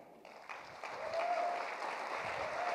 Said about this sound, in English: give yourselves a round of applause for being here with us